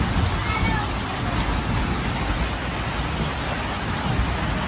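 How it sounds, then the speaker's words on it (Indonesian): Steady rain falls outdoors in a continuous dense hiss with a low rumble, loud and close and unbroken throughout. "Cuacanya lagi hujan guys."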